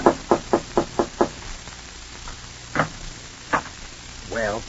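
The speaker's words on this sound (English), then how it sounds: "you go upstairs and knock on the door." A radio drama door knock: six quick, evenly spaced raps on a wooden door, crisp and close against a faint hiss, followed by a couple of isolated thumps and a brief voice.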